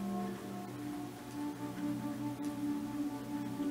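Rain falls outside at night as a soft, continuous patter on surfaces, faint and steady throughout, with no voices.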